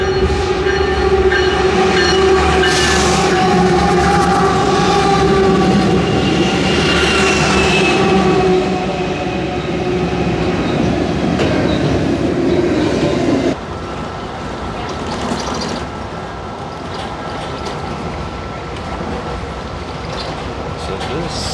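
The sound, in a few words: Amtrak passenger train rolling on the rails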